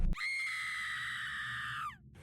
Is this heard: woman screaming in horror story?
yes